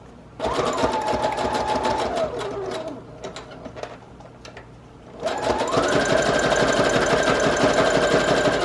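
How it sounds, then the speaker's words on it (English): A sewing machine runs a zigzag stitch across a recycled-box journal cover with a rapid mechanical whirring and clicking. It plays in two bursts, the first slowing to a brief lower-paced stretch, then speeding up again loud and close. "doing a zigzag stitch just to make that messy look intentional"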